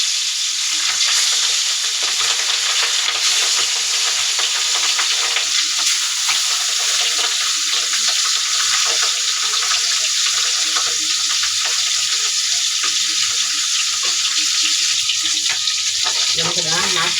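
Pabda fish frying in a pan of oil, giving a loud, dense, steady sizzle with constant crackle that runs unbroken throughout, with no talking.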